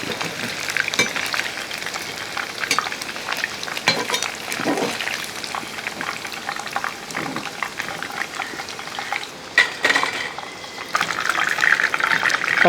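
Chicken pieces frying in hot oil, a continuous bubbling, hissing fry that stays fairly loud and close throughout, with occasional clatter of a utensil against the pan.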